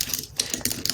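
Rapid keystrokes on a computer keyboard rattle out in a quick, close burst of clicks, with no talking.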